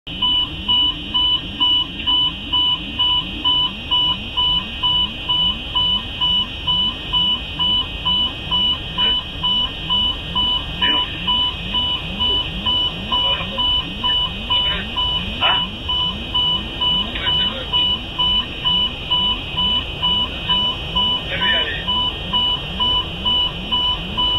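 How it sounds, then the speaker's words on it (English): Cockpit alarms blare inside an airliner during a night flight over the sea with no visible horizon, a steady repeating warning tone sounding loud and continuous throughout, with rapid pulsing beeps beneath. "The cockpit was overwhelmed with alarms and voices urging calm."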